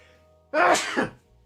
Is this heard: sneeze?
yes